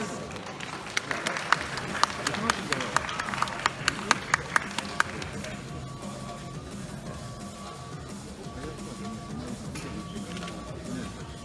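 Sparse, crisp hand claps ring out from the audience for the monokini class champion at the NPCJ Japan Classic 2020 bodybuilding contest. They thin out after a few seconds into a quieter hall with a faint steady tone.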